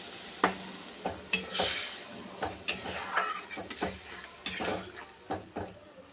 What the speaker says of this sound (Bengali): এরকম মশলাটা কষানো হয়ে গেছে, একটু জল দিয়ে দিলাম।